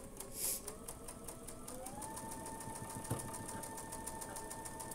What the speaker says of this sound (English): And so we're just sewing this on so that our handle is the right height to match up with the teapot block.